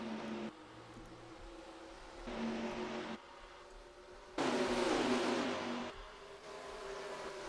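Stock cars race at Atlanta Motor Speedway in NR2003, their engines roaring in loud, shifting waves as the pack passes, with tones jumping abruptly between cars and no voices.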